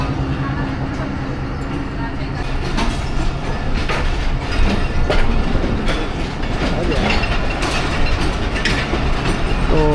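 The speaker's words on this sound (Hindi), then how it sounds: "हमारी ट्रेन भी चल पड़ी है।" Rehman Baba Express, the 47 Up passenger train, pulls out of Wazirabad Junction with steady rumbling wheel noise and clickety-clack across the whole stretch, broadband and close, with voices talking over it.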